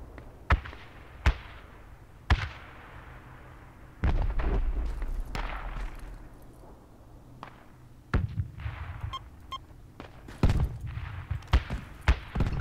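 Tank cannon fire in Project Reality on the Karez Offensive map comes as sharp, loud booms spaced a few seconds apart, each with a rumbling tail, amid other distant battlefield blasts.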